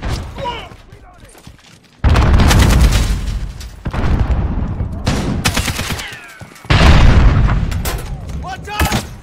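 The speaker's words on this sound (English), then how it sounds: "Grenade out!" Heavy grenade blasts and booming gunfire in Call of Duty: Modern Warfare, loud and close, with two big explosive surges rumbling over sustained battlefield noise while in-game voices shout.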